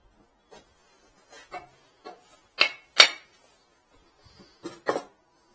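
A paving stone being tapped off after notching with a Hikoki angle grinder for gate work: a handful of separate sharp knocks, sparse and irregular, the middle two loudest, with quiet gaps between.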